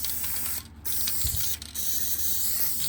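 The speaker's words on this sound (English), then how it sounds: "I'm using some of this Loctite spray adhesive, high performance." Loctite high performance spray adhesive sprayed lightly onto puppet-building materials, a loud continuous close aerosol hiss that breaks briefly twice within three seconds.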